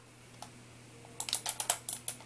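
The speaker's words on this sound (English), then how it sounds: "this is the old mouse, you hear that, click it, noisy scroll wheel." An old computer mouse gives a single faint click, then a quick run of sharp, close clicks from its noisy scroll wheel, heard on its own.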